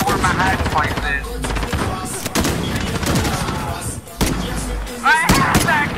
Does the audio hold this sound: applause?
no